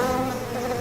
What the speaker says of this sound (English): Within seconds, the killer bees had found a new target.